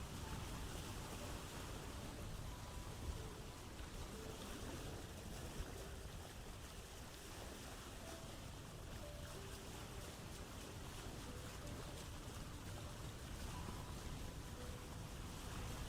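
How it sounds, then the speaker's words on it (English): Ocean waves and wind wash past a sailing ship in the video game Vintage Story, making a steady, broad roar of surf that stays even and unbroken throughout. "Just like rocking in a ship with like the ocean sounds."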